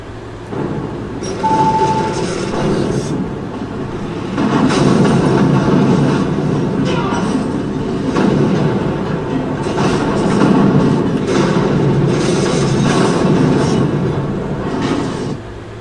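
In the Incredible Hulk video game on Xbox 360, a subway train rumbles continuously through a tunnel, its loud, dense roar swelling and easing with faint rhythmic rail clatter throughout.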